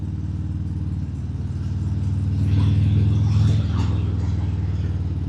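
A Harley-Davidson Breakout 117 motorcycle rides with a steady low V-twin engine rumble that swells briefly mid-way, accompanied by faint clatter and wind.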